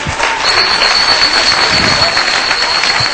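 A studio audience applauds a butcher after his marinade recipe on a Turkish TV show, with steady, dense clapping throughout, loud and close.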